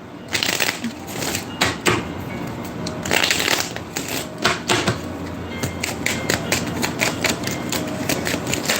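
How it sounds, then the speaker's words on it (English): Tarot cards are shuffled and drawn close up in a run of crisp riffling and snapping bursts, with brief pauses between them. "Give me 3 more cards for this reading before we take a rune, Yehovah."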